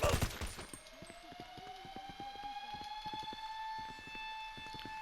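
Rapid gunfire from enemies in GTA V, a quick run of sharp shots repeating through the clip, alongside a rising siren-like tone and background game noise.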